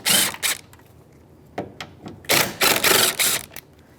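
A ratchet with a 10mm socket works on the mirror mounting bolts of a 2013-2018 Toyota RAV4, giving bursts of rapid close clicking, two short runs, then a pause, then several longer runs.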